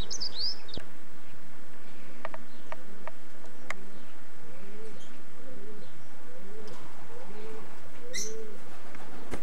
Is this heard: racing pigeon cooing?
yes